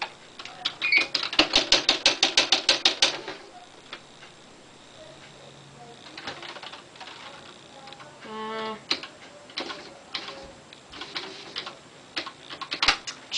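Typing on a Smith Corona SD750 electric portable typewriter: a fast, even burst of loud key strikes early on, then scattered keystrokes and a short mechanical whirring run, heard up close with no talking.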